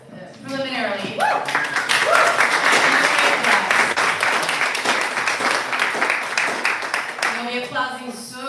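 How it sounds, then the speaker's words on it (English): Applause from an audience at an evening poetry reading featuring Scott Woods and Joaquín Zihuatanejo: sustained, dense clapping for about eight seconds with scattered voices mixed in, fading as a speaker resumes near the end. "Applause preliminarily."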